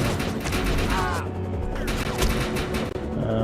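Gunfire in the Defiance 2050 closed beta shooter game, a dense run of rapid shots with heavy recoil packed close together across the whole stretch, loud and continuous with a brief lull near the middle.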